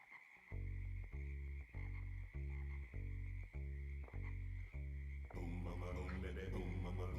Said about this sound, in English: Starts with toads.